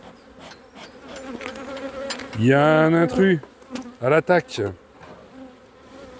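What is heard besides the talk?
honey bees buzzing around an apiary hive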